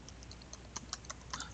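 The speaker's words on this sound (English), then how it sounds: "So I'm going to type assignments," Keys tapped on a computer keyboard while entering gradebook assignments, a quiet run of light, irregular clicks with short gaps, close and faint.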